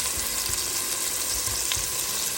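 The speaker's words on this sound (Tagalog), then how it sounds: "niluluto ko na ang bawang at sibuyas" Chopped garlic and onion sizzle in hot oil in a frying pan, a steady close crackling hiss with occasional soft stirring scrapes.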